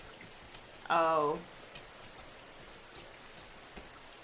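Steady rain falls in the PS3 game Rain, a soft continuous hiss with faint droplet ticks, while a voice speaks briefly over it.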